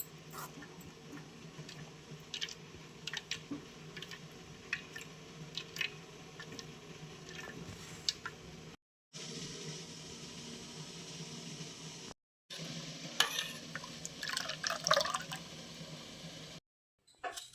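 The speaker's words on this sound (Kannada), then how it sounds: "ನಿಮಗೆ ಎಷ್ಟು ಬೇಕು ಅಷ್ಟೇ ನೀರು ಹಾಕಿ ಇದನ್ನು ತೆಂಗಿನ ಹಾಲು ತಕ್ಕೊಳ್ಳಿ" Grated coconut mixed with a little water is squeezed by hand to press out thick coconut milk. Faint, intermittent wet squishes and drips sound up close, with no talking.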